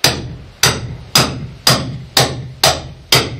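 Seven sharp hammer blows land at a steady, even pace on the hollow wooden floor of a Catalina 25 sailboat hull, each strike ringing briefly before the next.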